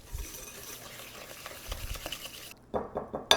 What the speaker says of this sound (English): I'm going to give it a good whisk.